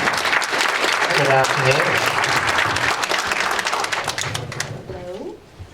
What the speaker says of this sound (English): Everybody give a round of applause for these lovely ladies.